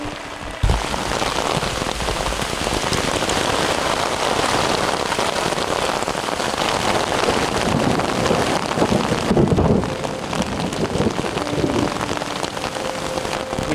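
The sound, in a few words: heavy rain and wind in a lightning storm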